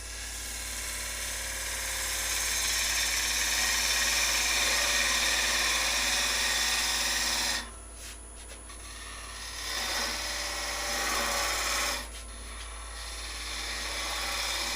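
Wood lathe spinning while a tool cuts an Easter egg blank, a steady close whirring hiss with brief dips where the tool lifts off the wood, no talking.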